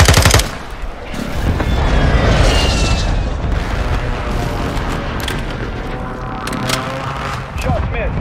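Near-continuous automatic gunfire and booming blasts rumble loudly through a video game firefight. The dense barrage runs throughout with only small dips, and voices mix in beneath it.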